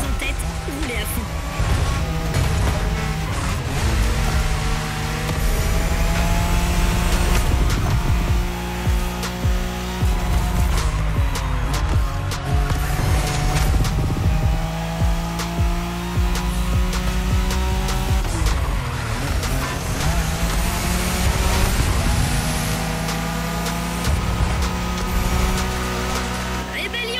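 A Nissan Skyline races flat out along Tokyo's Wangan expressway in the game The Crew Motorfest, its engine roaring loudly and continuously with rising and falling pitch as it shifts through gears, with tire noise and game sound layered over it.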